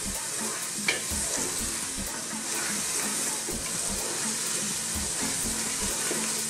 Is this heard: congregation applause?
no